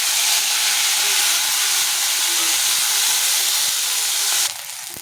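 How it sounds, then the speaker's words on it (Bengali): Dried fish (shutki) fries in a pan with a loud, steady, close hiss that drops off abruptly just before the end. "এখন আমি এই যে শুটকি মাছগুলো ভেজে নিচ্ছি।"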